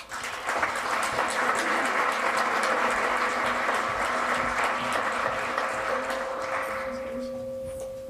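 Warm applause from an audience at Maynard High School's 2015 National Honor Society induction ceremony, steady, full clapping that fades gradually near the end, with a faint steady hum running beneath it.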